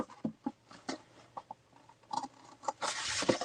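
Small old scissors snip through paper in quick irregular cuts, close to the microphone, ending in a longer rustling cut.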